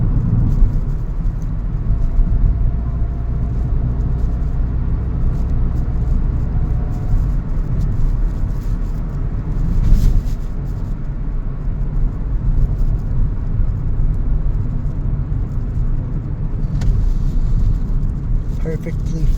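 A 2000 Toyota Celica GT on a test drive after new parts were fitted, giving a steady, loud low rumble of engine and road noise inside the cabin throughout, with a voice talking over it.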